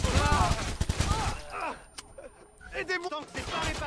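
Bursts of gunfire crack out in quick volleys in the video game Watch Dogs 2, mixed with shouting voices and a few sharp isolated shots.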